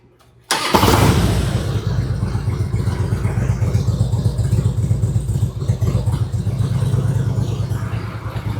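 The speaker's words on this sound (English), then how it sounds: "I'll get in here and turn the idle up just a little bit." A 1999 Harley-Davidson Road King V-twin with an adjustable carburetor air screw fires up after a brief silence and settles into a loud, steady, lumpy idle held slightly high, close by with no talk.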